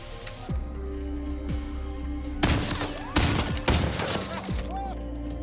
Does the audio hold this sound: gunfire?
yes